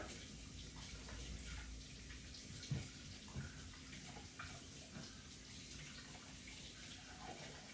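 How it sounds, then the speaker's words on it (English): Hands are washed under a running tap, a faint, steady stream of water with a couple of soft knocks against the sink. "Let's go ahead and get these hands washed up."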